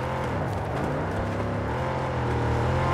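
A car engine in the Mad Max video game drones with a rough, continuous hum that rises slightly toward the end, loud and close throughout.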